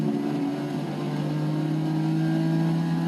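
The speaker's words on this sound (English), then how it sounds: "And there goes a Ferrari F40." Ferrari F40 engine in the Forza 6 racing game, a steady loud droning hum with strong low harmonics holding nearly constant pitch throughout, sustained and close without any talk.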